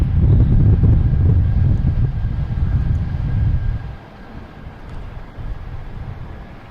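A Spirit Airlines jet at Boston Logan Airport gives a loud, broad low rumble for about four seconds before it drops to a quieter roar, with wind buffeting the microphone throughout.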